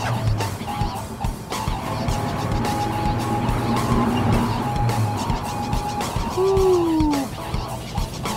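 Car brakes letting out a high, drawn-out squeal as the vehicle slows, rising over a steady engine and road rumble, with a shorter squeal heard earlier under the running noise.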